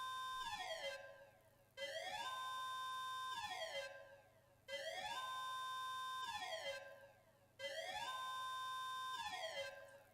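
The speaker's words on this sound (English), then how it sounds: "A low sound drowned out the sound of the siren." A siren sound effect from the video game Ever17 wails in repeating cycles, each tone sweeping up, holding steady, then sliding down before the next cycle starts abruptly, loud and electronic-sounding.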